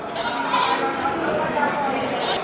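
Goats bleating amid a busy, noisy crowd at a livestock goat market in Bireuen, Indonesia, with overlapping animal calls and background chatter filling the space.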